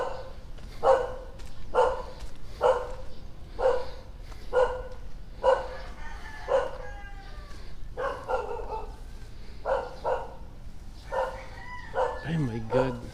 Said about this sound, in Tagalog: Ito aso, cute mo.